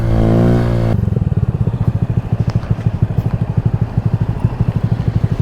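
Motorcycle ridden on the road toward a bike festival, starting with a rising rev and then settling into a loud, close, steady engine rumble with rapid pulsing.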